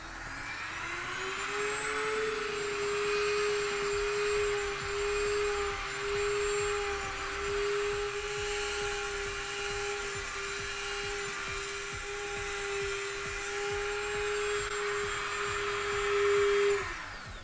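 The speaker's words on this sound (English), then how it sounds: "You can also use the Dremel tool, works really well for this actually." High-pitched, steady whine of a Dremel rotary tool running continuously while smoothing the surface of a Sabine Wren armored helmet, close and loud with small shifts in pitch and no speech.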